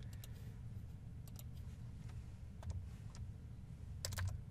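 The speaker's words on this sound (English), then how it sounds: "I'll go ahead and just type in GA for gauge." Computer keyboard typing while entering a short name into an equation editor in SOLIDWORKS CAD software, a few scattered quick key taps heard close and quiet over a low steady hum, with a brief burst of clicks near the end.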